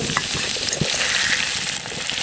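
Ivy gourd (tindora) pieces fry in hot oil while being stirred, giving a steady, close, dense sizzle with occasional scraping from the stirring, and no voices.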